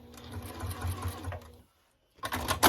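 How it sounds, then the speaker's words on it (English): A sewing machine runs in a steady burst as it stitches quilt binding off the corner at a 45-degree angle, stops briefly, then starts up again loudly near the end. "I'm going to stitch at a 45-degree angle right off the quilt"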